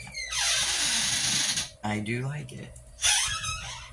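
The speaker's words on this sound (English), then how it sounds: "Sorry about that noise. My husband's letting the dogs out, and you can hear the squeak of the door." A house door hinge squeaks with a long high-pitched squeal as the door opens to let dogs out, then squeals again briefly after someone speaks a few words.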